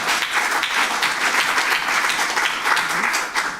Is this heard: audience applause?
yes